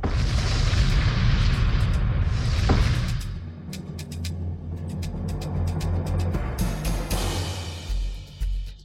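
A heavy bomb blast in a French-dubbed action film booms loudly, then a long rumbling roar follows while sharp debris crackles and pops scatter over the decaying tail.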